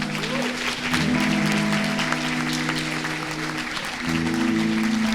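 Applause for the Lord from a congregation at a missionary conference church service, a dense, continuous wash of many hands clapping under sustained keyboard or organ tones, steady and fairly loud throughout.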